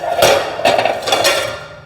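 A breaker bar on a Rubi or Sigma manual tile cutter is struck against tile three times in quick succession, each hit a sharp, close knock with a short ringing tail.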